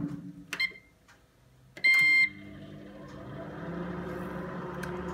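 A microwave's keypad beeps a few times, then a longer beep, followed by the steady low hum of the oven running.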